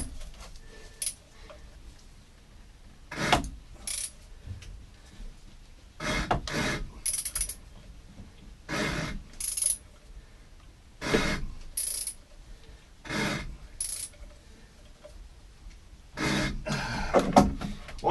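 A wrench working the crank pulley on a Chris Craft 454 marine engine with its eight spark plugs removed, left sitting for ten years and very tight: intermittent rasping, ratcheting bursts in a steady series of strokes with quiet pauses between.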